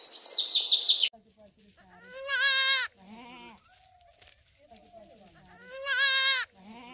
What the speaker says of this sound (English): A baby goat is called a kid, and it is the offspring